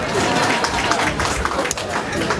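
An audience applauds a speaker's two-year-old son, dense steady clapping that fills the room, close and fairly loud with no voices over it.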